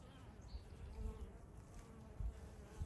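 Honey bees buzz around their hive during spring cleaning, a soft continuous hum of many insects nearby with occasional louder passes.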